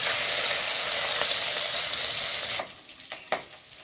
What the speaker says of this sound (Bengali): প্রথমে আমি নুন হলুদ মিশিয়ে রাখা চিংড়ি মাছগুলো ভেজে নেব।